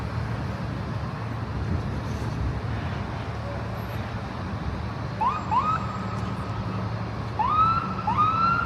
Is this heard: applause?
no